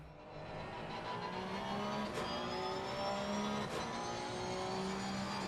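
Porsche Cup race car engine at Oulton Park in a sim racing game, revving high and shifting through gears with rising, falling pitch sweeps, loud and steady with no voices.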